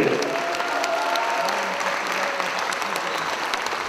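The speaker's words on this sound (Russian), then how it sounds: "аплодисменты!" A crowd applauds with dense, continuous clapping that stays steady and full throughout, like an audience in a hall.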